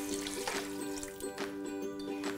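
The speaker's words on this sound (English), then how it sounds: "So let's throw in our water, on our orange juice" Water and orange juice are poured into a pot of cooked tomato for soup, making soft, intermittent splashing pours over a faint, steady background hum.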